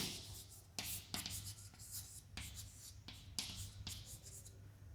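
Pen writing out a definition by hand on paper: soft, close scratching strokes with brief taps and pauses over a low steady hum.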